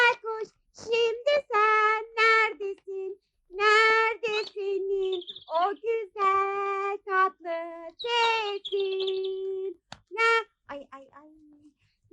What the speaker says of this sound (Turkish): Ey bülbül güzel.